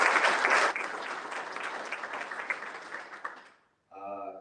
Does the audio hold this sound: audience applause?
yes